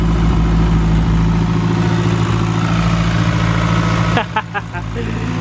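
A K-swapped Mazda RX-7 FD idles steadily right after its first start, a smooth, fairly quiet, even engine hum running close by under a man's speech, with a brief dip near the end.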